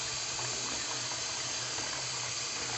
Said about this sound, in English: That water's pretty hot. It's not so hot I can't keep my hand under it, but it's hot enough.